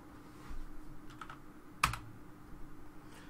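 Keystrokes on a computer keyboard entering a number into a Roll20 radial menu, a few faint taps followed by one sharp, louder press of the enter key, close and alone.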